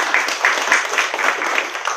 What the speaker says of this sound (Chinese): 所以我们借助于掌声，